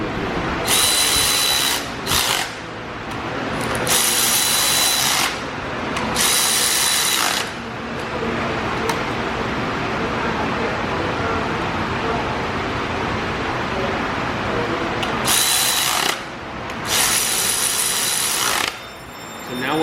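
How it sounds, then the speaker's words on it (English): A Milwaukee electric ratchet buzzes in several long, loud bursts close by, running head bolts down on a 60-year-old diesel engine, over a constant background hum with short gaps between runs. "a Milwaukee electric ratchet. It doesn't have much torque whatsoever, but it's got just enough that we can run these head bolts down"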